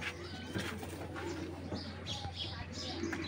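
A male Giribaz pigeon of the Army Bezi line, a tournament flying breed, coos in a low steady murmur throughout, with faint chirps and a voice in the background.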